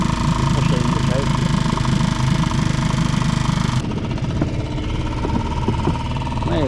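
A boat's engine runs steadily just after a choke start, a continuous droning rumble that stays loud throughout with a slight shift in tone partway through; a voice speaks faintly under it.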